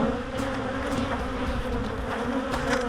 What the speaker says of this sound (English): Well, quite a lot of bees over here, which I would like to get into the hive.